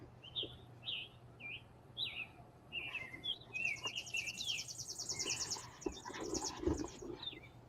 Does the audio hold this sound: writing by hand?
no